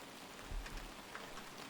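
Rain falls steadily in the Outbound video game at a wilderness campground, a soft even hiss with a few low thumps, no voices.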